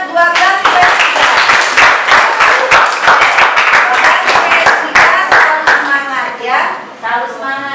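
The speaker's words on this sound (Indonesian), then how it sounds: "Tepuk tangan buat 12 PS3." Classroom students clap their hands together in a quick, uneven patter, loud and close, with voices chattering and calling out over the clapping toward the end.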